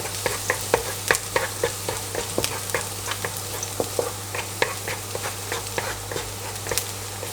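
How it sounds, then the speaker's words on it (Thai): Garlic stir-frying in a pan for a Chinese cabbage, egg tofu and minced pork dish: a steady sizzle under rapid, rhythmic scrapes and clacks of a spatula against the pan, fairly close. "แล้วก็กระเทียมนะครับใส่ลงไปผัดเลย ผัดจนหอมเลยนะครับผม"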